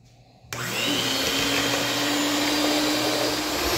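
An electric mixer beats a two-ingredient dessert mixture, switching on after a brief quiet moment and then running as a loud, steady, close whir with no talking.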